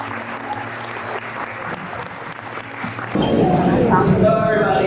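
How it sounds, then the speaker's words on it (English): Guests applaud at a 50th golden wedding anniversary party, as clapping swells suddenly and loudly partway through after quieter room sounds with a voice. "please give a huge round of applause for our mom and dad, our true MVP."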